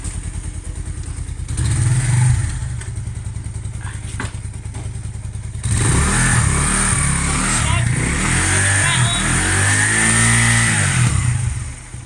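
A Lexmoto motorcycle engine is started from cold, cranking and catching before settling into a loud, steady run with revs rising and falling close by, while people talk over it.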